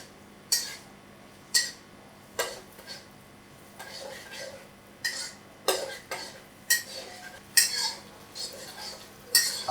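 Kata kat being stir-fried in a pan over high heat, with repeated sharp metallic scrapes and clinks of a spatula against the pan coming in uneven bursts over a low background hum.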